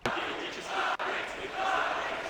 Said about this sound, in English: Crowd cheering for Navi.